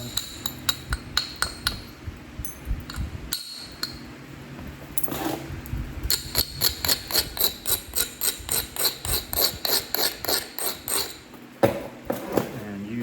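Sharp, rapid clicking strikes ring out again and again as a flint point is knapped, the edge being worked into a bevel; the taps come close and crisp in quick bursts, with a faint voice now and then.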